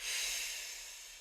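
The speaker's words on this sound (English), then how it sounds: "Give me 2 breaths here. Inhale." A soft, steady inhale during a yoga pose, a faint airy hiss that swells at once and slowly tapers off.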